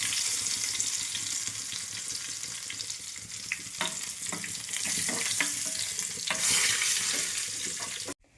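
Dried red chillies, curry leaves and onion crackle in hot oil for a Kerala pachadi tempering, a dense continuous sizzle with scattered sharp pops and stirring clatter over several seconds, no talk.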